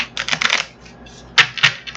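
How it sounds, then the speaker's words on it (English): A tarot card deck is shuffled in two quick bursts of crisp, clattering riffles separated by a short pause, close and fairly soft, with no talking. "So, let's get the other deck out. We'll shuffle these."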